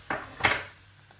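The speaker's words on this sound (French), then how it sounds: "On mélange un petit peu." A utensil stirs spinach in a cooking pan, making two brief, close clattering scrapes against the pan, followed by a quiet tail.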